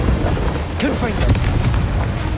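A Confringo blasting spell goes off in Hogwarts Legacy, a dull booming burst about midway through, set in a dense bed of game sound effects and music.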